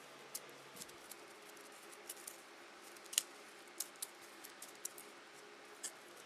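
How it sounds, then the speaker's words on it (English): A deck of playing cards being shuffled at a tabletop card game, a quiet run of light crisp riffling snaps and ticks spread unevenly over several seconds, alone without talk. "Shuffle the deck."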